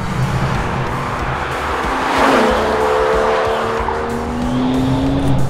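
An Aston Martin DBS Superleggera with a twin-turbo V12 is driven flat-out in Germany. The engine roars loud and continuous, rising in pitch through the revs with a gear change and tire noise, heard from close by without talk.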